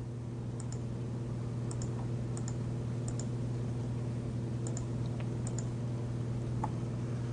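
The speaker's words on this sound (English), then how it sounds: "clicking on the next button every time you're prompted" A computer mouse clicks through the Next buttons of a software installer, giving several faint double clicks spaced a second or so apart over a steady low electrical hum.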